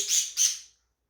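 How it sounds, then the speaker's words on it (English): Pet birds let out two quick, bright chirps in close succession, short and fairly soft, followed by silence. "my birds like to talk too"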